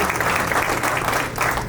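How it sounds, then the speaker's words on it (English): A town hall meeting crowd gives a dense, steady round of applause for the village clerk, many hands clapping together with no break, loud and full throughout. "Let's give her a great big round of applause."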